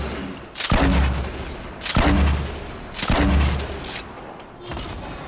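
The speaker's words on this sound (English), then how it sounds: "Spam that shit with them grenades." Grenades burst in Fortnite, with three loud, rumbling explosions about a second apart followed by a fainter fourth, each with a long trailing roar.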